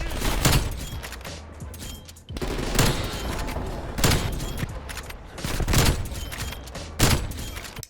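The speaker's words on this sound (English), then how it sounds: "You scope in and just shoot there" Sniper rifle quick-scope shots in a video game ring out as a series of sharp, loud cracks, about six spread unevenly over several seconds, each trailing into a short echoing decay.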